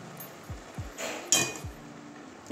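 Half-boiled papaya is poured from a pot into a basket: a brief watery splash and clatter, with metallic clinks of the pot at the rim. The whole pour is short and close, with no speech.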